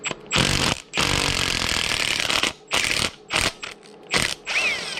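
Ratchet wrench loosening bolts on an all-aluminum 5.3 LS engine, loud close bursts of rapid clicking, one long sustained run then several shorter quick cranks with brief gaps.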